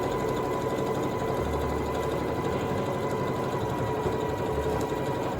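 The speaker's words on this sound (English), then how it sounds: "Literally, I turned on my machine and I'm sewing this." A sewing machine stitches a fabric French press coffee sleeve with normal tension and a standard presser foot, its motor humming in a steady, continuous whir, close and loud, with no voices.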